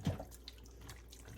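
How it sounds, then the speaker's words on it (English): Water being poured from a cup into a pot over chicken broth, a soft, brief splash and trickle heard close but faint against a quiet room. "1 cup of chicken broth on top of that 2 cups of water."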